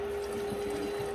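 Corncob stock pouring steadily into jars, a soft continuous liquid trickle with a faint steady hum underneath, quiet and close.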